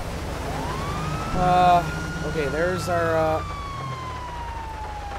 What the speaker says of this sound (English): Let's turn off our sirens